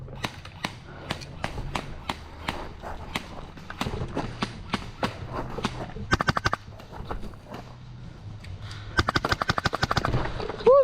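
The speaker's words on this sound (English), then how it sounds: "They're shooting from down in there." Airsoft guns firing during a bunker defense game at an outdoor field, sharp snapping shots in single pops and quick rapid strings, some close and some farther off, under faint background noise.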